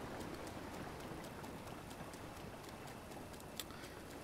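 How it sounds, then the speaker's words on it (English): Steady rain falls in the open-world video game Legend of Zelda: Breath of the Wild along Zora River, a soft continuous hiss with scattered faint ticks and drips, quiet and with no speech. "Oh, and we'll be doing this in the rain"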